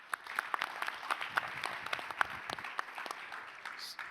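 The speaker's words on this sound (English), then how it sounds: "Let's clap it up one last time for the panelists." Audience applause for panelists at a fintech industry panel event, a steady patter of many hands clapping with a few sharper claps standing out, sustained throughout.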